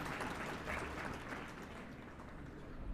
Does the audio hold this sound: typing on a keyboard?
no